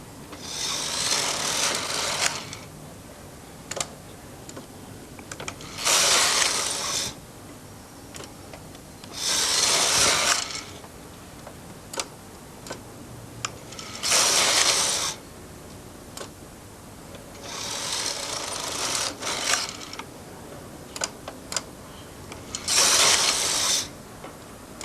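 A Brother knitting machine's carriage is pushed back across the needles, making rasping, ratcheting swishes in roughly six bursts about every four seconds. Quieter mechanical ticks fall between the passes, and no one speaks.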